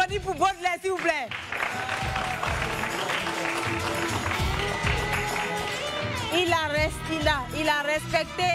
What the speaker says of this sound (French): applaudir pour Baudelaire, s'il vous plaît.